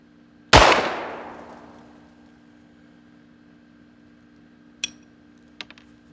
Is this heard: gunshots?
yes